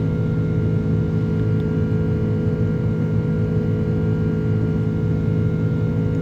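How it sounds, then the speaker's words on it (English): Jet airliner engines throttle up in Microsoft Flight Simulator 2024 from the cockpit view, a loud, steady, dense engine roar and hum that holds throughout with no voices. "Listen to those engines throttle up, I love that sound."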